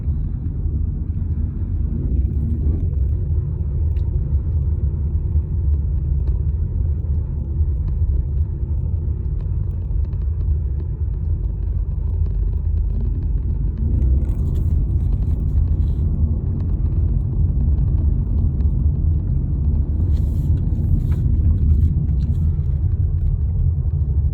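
Cabin sound of a 2020 Honda Civic driving through the suburbs: a steady, loud low rumble of engine and road noise that holds throughout, with faint ticks and rattles and no talking.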